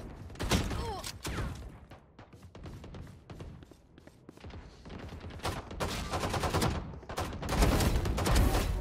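Rapid bursts of Frenzy pistol fire in the video game Valorant, loud and dense, repeating in quick volleys over busy game sounds, with a brief quieter stretch before heavier firing resumes near the end.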